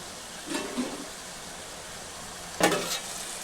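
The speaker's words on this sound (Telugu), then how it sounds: "ఈ బీరకాయ ముక్కలు నూనెలో బాగా మగ్గితే టేస్ట్ బాగుంటుందండి" Ridge gourd pieces cooking in oil with prawns to follow: a steady low sizzle close by, broken by two brief stirring scrapes, with no voices.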